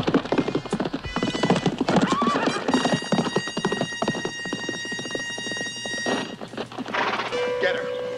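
Horse hooves clip-clop in a steady rhythm close by, joined by a whinny, while people talk over the top.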